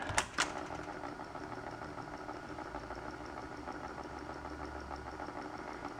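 A Sony TC-500A reel-to-reel tape recorder rewinds with a steady whirring motor hum and tape hiss, opening with a couple of clicks, close and alone.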